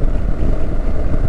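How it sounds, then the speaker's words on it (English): Loud, steady wind buffeting on the rider's microphone while riding a BMW R1300 GS motorcycle, a continuous broadband roar with no pauses. "it's a job to hear because it's quite blimmin' noisy with this bloody wind"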